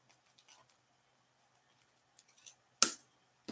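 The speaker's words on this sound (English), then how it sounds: "I'll cut this tip off here." Scissors cut the tip off a pool noodle in a Dollar Tree Christmas craft project, mostly quiet with small clicks before one sharp crunching snip and a brief follow-up.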